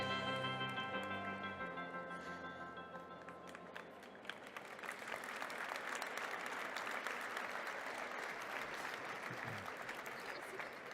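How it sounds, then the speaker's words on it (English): Conference audience gives a warm round of applause, which swells after a few seconds into steady, fairly faint clapping after a stretch of music at the start. "Please give them all a warm round of applause."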